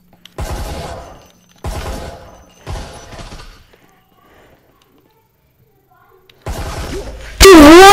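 Gunfire in Breachers, a VR first-person shooter: three loud bursts of rapid shots in quick succession, a pause, then another burst, ending in a sharp, harsh blast.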